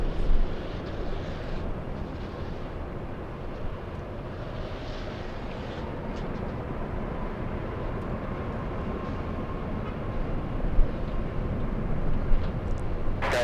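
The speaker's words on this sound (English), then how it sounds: "Southwest Airlines flying to New Orleans, flight 4300." A Southwest Airlines jet on flight 4300 to New Orleans roars broadly at a distance, a continuous wash of engine noise that swells slightly toward the end, with no talk over it.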